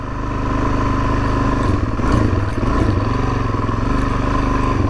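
A 2019 Suzuki DRZ 400S dual-sport motorcycle ridden on an old dirt track, its single-cylinder engine droning loud and close with steady throttle and small rises in revs.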